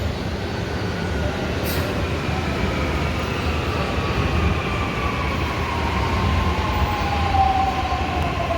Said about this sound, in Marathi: आली मेट्रो आली